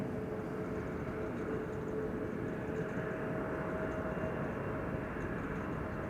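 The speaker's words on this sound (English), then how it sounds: "BizJet landing on runway 22." A business jet landing on runway 22 at Amsterdam Schiphol Airport produces a steady, broad engine roar with a faint whine, sustained and fairly distant, with no talking.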